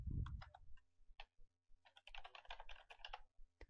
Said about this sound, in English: We'll type in the SMTP.